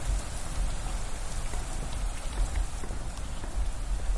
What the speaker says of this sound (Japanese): やばい、雨の音強い。